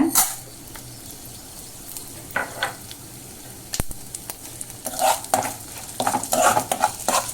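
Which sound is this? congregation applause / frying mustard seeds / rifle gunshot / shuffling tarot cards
frying mustard seeds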